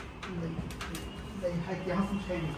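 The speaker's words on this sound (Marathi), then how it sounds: "कबूतर है ना उधर" Soft, low pigeon cooing repeats in the background while people talk nearby.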